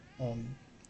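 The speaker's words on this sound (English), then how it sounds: "So that's the cat." Indoor cat giving a single short meow, clear and fairly close, with quiet room background.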